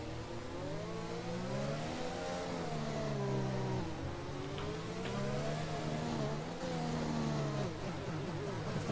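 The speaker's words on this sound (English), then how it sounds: "Someone who's not backing off is Julian, who is almost pushing Vexit around the Casino Square left-hander there" Racing car engines rev and howl continuously through the tight Casino Square section of Monaco in a racing video game, several cars close together with rising and falling pitch, loud and steady.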